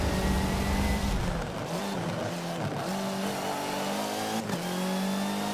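Touring car engines from a racing game, several cars bunched in a train, droning and revving continuously with shifting pitch, brief dips between gears and a faint tire squeal, loud and close throughout.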